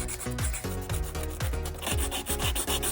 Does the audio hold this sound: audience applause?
no